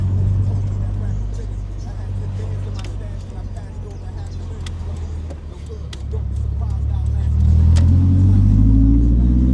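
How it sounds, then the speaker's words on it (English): Nissan S15 cruising on the road, a low steady engine and road rumble heard from inside, with an occasional faint tick, swelling louder as it speeds up at the end. "I'm currently taking the car for a drive now."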